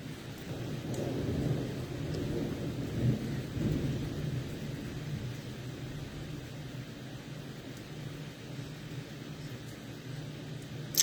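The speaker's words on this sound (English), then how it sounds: "It's raining outside as well" Steady rain pours outside with a low rumbling wash of noise, continuous and moderately quiet throughout.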